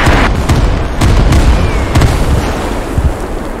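Bombing explosions in the military shooter Squad: loud, close blasts and booms, with several sharp hits rolling into continuous rumble.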